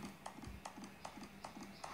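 Running footsteps from the character in Temple Run 2, even paced thumps repeating roughly every 0.4 seconds like hoofbeats, quiet and steady with no voices over them.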